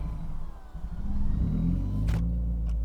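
A Subaru WRX engine runs after its turbo repair, a low rumble that wavers at idle and then steadies and swells slightly, with a brief sharp click near the end and no voices.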